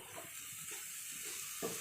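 Sliced ridge gourd goes into hot oil with frying spices for a fish curry with potato, giving a soft steady sizzling hiss with faint stirring clinks underneath, quiet and close.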